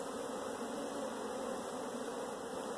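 Honey bees buzzing on a brood frame during a hive split: a dense, steady, close drone of many bees throughout, with no talking.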